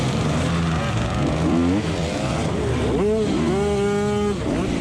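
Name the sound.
dirt bike engine revving on muddy hill climb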